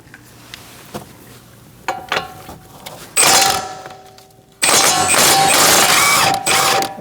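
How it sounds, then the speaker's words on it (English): A 21mm socket on a ratchet works the front brake caliper bolts of a 2013-2019 Cadillac ATS, with soft clicks and clunks followed by loud, sustained rattling bursts as the bolts are run out. "Now we're going to remove this bolt and this bolt with a 21mm socket."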